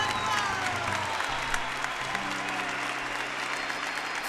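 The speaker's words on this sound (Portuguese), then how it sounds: "Primeiro dando um grande aplauso a Jesus, ao Espírito Santo." A crowd at a Catholic priest's sermon claps steadily and densely, a sustained wash of applause, with music faintly present underneath.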